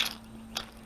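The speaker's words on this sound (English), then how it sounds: "And there's the old throw-out bearing." Worn throw-out bearing from a 1978 Toyota pickup transmission gives two brief, faint scraping, grinding rasps about half a second apart, close by and quiet.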